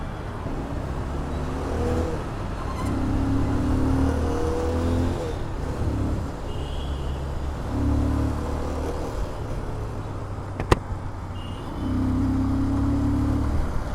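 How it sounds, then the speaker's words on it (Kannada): A 2026 Bajaj Pulsar 220F motorcycle revs and rides close by, its exhaust note rising and falling through several throttle bursts with brief pauses between, fairly loud, with a sharp click near the end. "ನೋಡಿ, ಈವನ್ ಎಕ್ಸಾಸ್ಟ್ ಸೌಂಡ್ ಕೂಡ ಸಕ್ಕತ್ತಾಗಿದೆ, ಕೇಳೋಕ್ಕೆ ಮಾತ್ರ ಡುಮ್ ಕ್ರೇಜಿ ಆಗಿದೆ ಗುರು"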